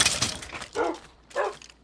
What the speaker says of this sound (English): Oh, I got two dogs in here now